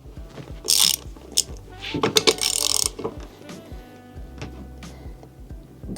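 Ratchet wrench loosening the axle bolts on a Onewheel XR Classic during a tire change, heard as a few close, sharp ratcheting bursts amid light handling clicks, with no talking.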